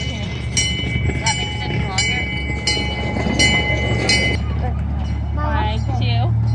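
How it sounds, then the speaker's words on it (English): A loud, close zoo train rumbles past continuously with a steady tonal hum, and voices talk over it toward the end. "Here comes the train."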